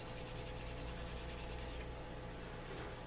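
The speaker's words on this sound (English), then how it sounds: "Just take my burnisher to it." A burnisher rubs quickly back and forth along a leather edge coated with gum tragacanth, a faint, steady rasping with a fast rhythmic swish in the first part, then a smoother hiss, close up and without talking.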